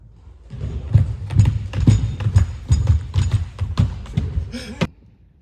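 Horse hooves clip-clop in a steady stream of close, sharp knocks for about five seconds, with a few louder thuds mixed in, and then they stop.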